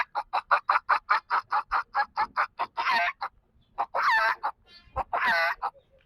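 A man imitates a hen with his voice, giving a rapid run of about a dozen short, evenly spaced clucks, then three longer, drawn-out squawking calls with brief gaps between them, close and loud.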